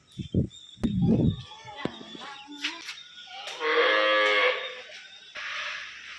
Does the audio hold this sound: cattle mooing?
yes